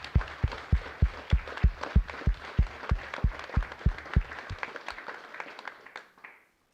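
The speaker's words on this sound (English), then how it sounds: "So please give them a round of applause." Applause at a TEDx event for the speaker coaches: a few hands clapping in a steady, evenly spaced rhythm, fairly quiet, with a light spatter of other claps behind, tapering off and stopping.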